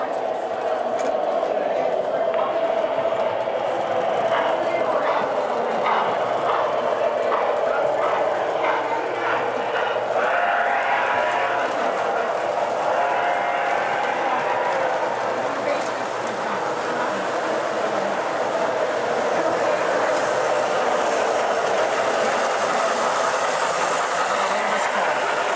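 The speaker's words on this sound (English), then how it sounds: "Rail sound, so you know. It's actually in the boxcar behind the engine." A model train's boxcar, behind the engine, plays a rail sound effect: a continuous rolling rumble with rhythmic clatter and hiss that runs steadily throughout.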